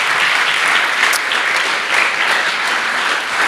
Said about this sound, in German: gib doch mal unserem Worship-Team einen Applaus